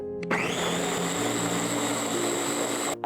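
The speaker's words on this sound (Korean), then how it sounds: "이제 믹서기를 돌려보겠습니다." A blender purees sweet potato, turmeric and 200 ml of warm soy milk into a thick mixture. Its loud, steady motor whir starts abruptly, runs about three seconds, then cuts off.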